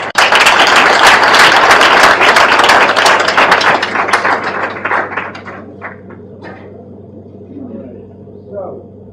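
A large standing-room-only audience claps loudly and densely, the applause thinning out and fading into a few scattered claps, with a voice speaking faintly near the end.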